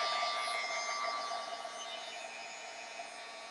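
A heat tool or dryer blowing over a stenciled mixed media craft tag, a steady close whirring hiss with a faint high whine, slightly softening after the first second and continuing alone.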